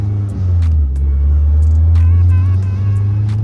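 A 2008 Mazda Speed 3 with a swapped-in 2.5L engine block pulls hard under full throttle, a loud, steady low engine drone holding close and continuous with a slight rising tone, no talk.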